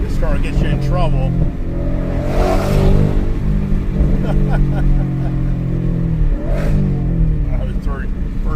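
A car accelerating hard through first gear, its engine note climbing in a loud, steady pull close by, with people talking over the engine.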